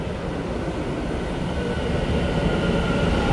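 Taiwan Railway silver-green EMU900 ten-car electric multiple unit passing on the Western Line, a steady broadband rumble of wheels and cars that grows slightly louder toward the end, with no talk.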